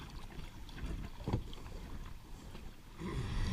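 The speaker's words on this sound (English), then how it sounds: "So I'm paddling right next to United Refinery right now, and this is the rapids." Packraft paddled through rapids on the Allegheny River beside a refinery, with steady rushing water and wind noise throughout and a sharper splash of a paddle stroke near the middle.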